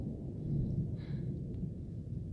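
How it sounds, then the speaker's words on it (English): A low, distant rumble of thunder rolls through a mountain storm on the Pacific Crest Trail as rain begins to fall, faint and steady with no voices. "The lightning is increasing. And so is the thunder"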